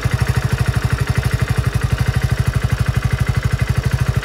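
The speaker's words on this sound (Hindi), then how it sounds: "तो पहले इंजन साउंड को यहाँ पे सुनने की कोशिश करते हैं कि इंजन अब कैसा साउंड" A 2023 Hero Passion+ motorcycle engine idles steadily with a fast, even low thump, loud and close, with no other sounds.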